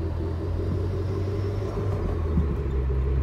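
A 1991 Toyota MR2 Turbo engine idles with a deep, steady rumble and a faint turbo whine on top, running continuously without any voices.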